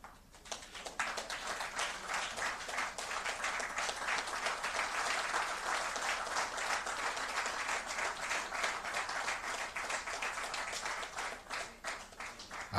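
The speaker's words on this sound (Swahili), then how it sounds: "Na tutaendelea kupiga makofi mengi sana." Audience at an NMB Bank annual financial report event applauding, a long, dense and steady round of clapping from many hands, close and continuous for over twelve seconds with no talk over it.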